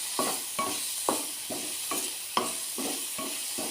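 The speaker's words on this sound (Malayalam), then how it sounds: "തക്കാളി ആഡ് ചെയ്തിട്ടുണ്ടെങ്കിൽ നമുക്ക് ഇളക്കി യോജിപ്പിച്ച് കൊടുക്കാം" Onion and tomato sautéing in a pan while a spoon stirs in a regular rhythm, each stroke a soft scrape rising over a constant low sizzle, about eight strokes in a few seconds, close and unaccompanied by voices.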